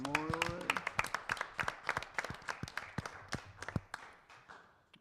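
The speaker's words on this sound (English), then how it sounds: "your round of applause to Memorial Day" Scattered clapping from a small group at a school board of education meeting, separate sharp claps at an uneven rhythm that thin out and quieten over about five seconds.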